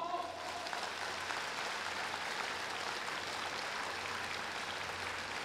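Large audience at a national day ceremony applauds warmly in a steady, distant-sounding wash of clapping, even and unbroken throughout.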